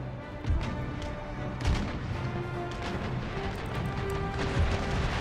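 Cannon fire during an Empire: Total War naval battle, with repeated booming shots from warships rolling over a dense, rumbling battle din, several heavy blasts standing out near the start and middle.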